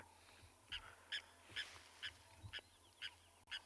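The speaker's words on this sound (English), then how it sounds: "There is a grey go-away bird. You might have heard him a moment ago." A grey go-away bird at an African safari waterhole gives a series of about eight evenly spaced nasal, honking calls, moderately distant, over a steady outdoor background hiss.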